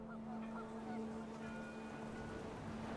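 Panicked geese in the video game What Remains of Edith Finch give a few faint, distant honks over a steady wind-and-water background, brief and soft.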